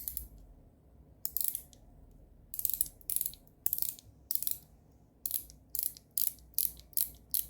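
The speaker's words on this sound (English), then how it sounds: "But the clicks, I don't know if you can hear the difference, they're more, almost more defined." Keyboard switches click sharply in irregular bursts of single and paired presses, crisp and close against a quiet low background hum, with no voices.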